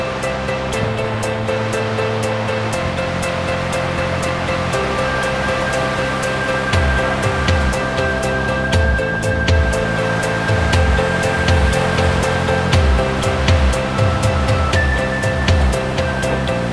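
A steady, roaring rush of falling water from the Koban waterfall in Ossetia fills the scene continuously, loud and close, with no voices.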